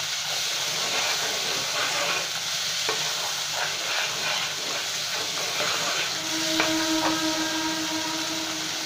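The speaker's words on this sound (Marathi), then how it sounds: "याला व्यवस्थित खरपूस परतून घ्यायचं आहे." Masala being stirred and fried until well browned in a pan, with tomato added, for katachi amti; a steady close sizzle and hiss runs throughout, with scraping stirs and a few spoon taps on the pan.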